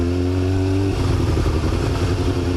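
A motorcycle engine hums steadily as the rider shifts and rolls around a turn, its tone changing after the first second into a louder, rougher drone, close and continuous.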